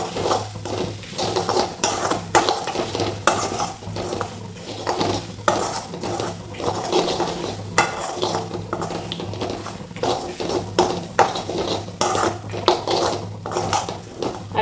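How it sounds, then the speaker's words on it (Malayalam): Young jackfruit is stirred into a frying spice paste in a pan for idichakka thoran. A utensil keeps scraping and clattering against the pan over a steady sizzle, close and fairly loud, with no talking. "ഇനി നമുക്ക് ചക്ക ഇട്ട് നല്ലതുപോലെ ഒന്ന് മിക്സ് ചെയ്തെടുക്കാം"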